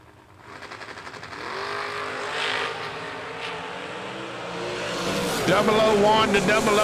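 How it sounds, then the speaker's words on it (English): A Corvette drag race car launches and accelerates hard down the strip at a drag racing event. The engine roar builds and grows louder throughout, with an announcer talking over it. "Robert down 536 in the Corvette"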